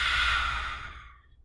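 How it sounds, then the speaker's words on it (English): A person performs a lion's breath exhale with the mouth open and tongue out, one long forceful breathy huff that is close and loud at first and then fades away, with no speech. "when you exhale, you're going to open your mouth, stick out your tongue, and look up at the ceiling like a lion is yawning"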